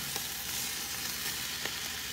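Bratwurst sausage sizzling steadily in a small, crowded frying pan, a dense continuous crackle with faint stirring clicks, close and alone without talk.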